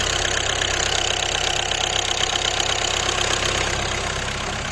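Volkswagen Golf 6 1.6 TDI 77 kW diesel idles close up under an open hood, a steady loud clattering hum with even rhythm throughout.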